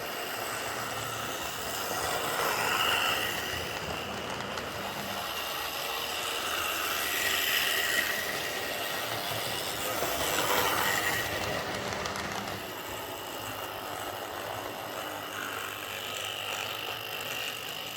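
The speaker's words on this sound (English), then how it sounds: "It's a Hornby R150 running again. It does need a bit of work yet. I need to paint the wheels. The motor is still very noisy." An old Hornby R150 model locomotive with a noisy motor runs along the track, producing a steady, close whirring and rattling mechanical grind that swells and eases slightly over time.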